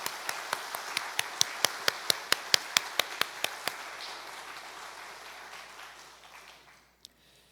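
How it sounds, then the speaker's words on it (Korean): A church congregation at a Sunday morning worship service claps in steady unison, about fifteen crisp evenly spaced claps that stop abruptly, leaving a quiet hall with one faint later tap. "우리 주님께 영광의 박수를 한번 올려드리겠습니다"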